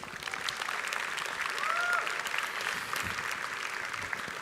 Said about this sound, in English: So give yourself a really big applause